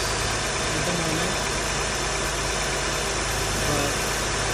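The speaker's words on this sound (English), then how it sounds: "This engine is really cold. So I just started up." Cold-started engine of a 2004 Acura TL idling steadily, a continuous broadband drone with a faint knocking undertone, heard alone without speech.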